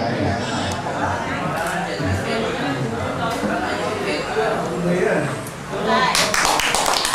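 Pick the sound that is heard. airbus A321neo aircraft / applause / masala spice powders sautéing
applause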